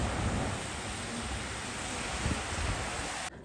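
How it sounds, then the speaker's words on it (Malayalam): Cold wind gusting steadily outdoors in Qatar just after a storm, a continuous broadband rush with low rumbling buffeting, constant and fairly loud throughout, no voices. "തണുത്ത കാറ്റടിക്കുന്നുണ്ട്"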